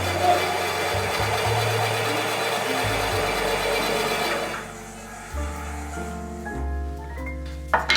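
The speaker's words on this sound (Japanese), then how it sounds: "このバンドソー無断変速のモーターがついてて、ここのダイヤルひねるとゆっくり動き始めます" Motor of a variable-speed band saw used for shoemaking winding down from a steady busy whir, then starting up again slowly with low humming tones that step up in pitch, close and mechanical, with no talking.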